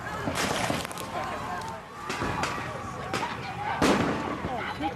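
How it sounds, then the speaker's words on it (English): Smoke bombs and tear gas launched by police at a protest standoff in Minnesota after a police shooting, dull pops and bursts ringing out over a loud crowd and outdoor rumble, with a voice speaking through it. "Smoke bombs have been fired, tear gas have been fired after a shooting"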